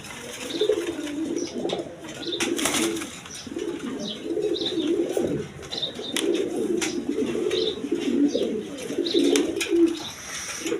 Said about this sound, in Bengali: এইখানে দেখেন এক পেয়ার কবুতর ড্যান্সিং করতেছে